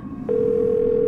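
A phone tone sounds during a cell phone call in the Nancy Drew game Curse of Blackmoor Manor, a single steady pure tone that begins abruptly after a short murmur and holds, loud and alone.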